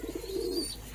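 Domestic pigeons in a backyard flock coo in a soft, low, throaty burble, one close warbling call rising and fading within a second, with no voices.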